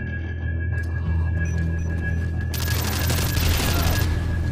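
A PP2000 machine pistol fires in Call of Duty Modern Warfare 2: a loud, dense burst of rapid automatic shots takes over the second half, over a steady game background hum.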